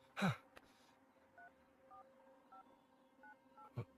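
A phone number is dialed on a keypad: about six short, quiet touch-tone beeps in quick succession, framed by a couple of louder handling knocks.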